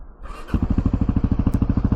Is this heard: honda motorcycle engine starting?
yes